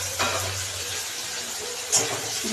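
Chopped tomato and green chilies go into a pan of frying onions for a spicy mustard-and-okra dish, giving a steady soft sizzle with two brief louder hisses as the pieces hit the hot oil.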